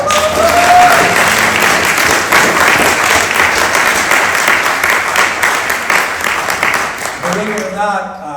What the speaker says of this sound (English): we should give Anna a round of applause